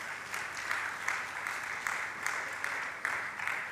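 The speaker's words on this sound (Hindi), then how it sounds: "अनुमोदना करें आप लोग तालियों के साथ में" Steady audience applause at a religious discourse gathering, dense clapping from a large crowd sustained throughout, heard from a moderate distance at fairly low level with no talking over it.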